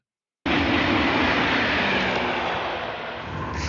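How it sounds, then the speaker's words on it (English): A French TGV high-speed train rushes past with a sudden onset and a broad, steady roaring whoosh that stays loud and close before easing slightly at the end. "It looks like, I think it's a TGV in France."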